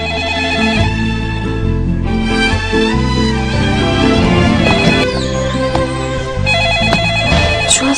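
A telephone rings loudly and steadily with a bright, repeating ringtone melody that goes on unanswered for several seconds, with no voices over it.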